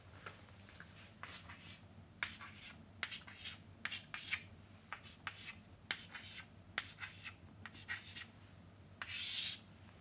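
A pen scratches across paper while sketching a diagram of a non-blocking switch, with short, faint strokes and taps at an irregular rhythm, close and quiet with no talk.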